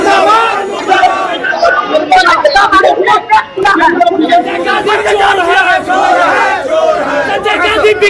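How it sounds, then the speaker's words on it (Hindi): A loud protest crowd outside Nitish Kumar's house chants slogans in rhythmic unison, close and forceful, with repeated shouted phrases and overlapping voices throughout. "नीतीश कुमार के घर के बाहर प्रोटेस्ट"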